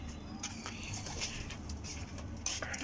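Pigeons on a rooftop cooing softly in low repeated calls over a steady outdoor hum, with faint brief chirps and occasional quiet movement nearby.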